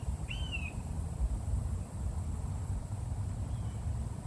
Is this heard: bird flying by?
yes